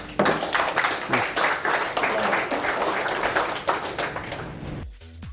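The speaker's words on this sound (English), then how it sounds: "applause for Max Garcia" Applause for a keynote speaker at a leadership event, a dense burst of clapping from an audience that swells quickly, holds steady for several seconds, then cuts off abruptly.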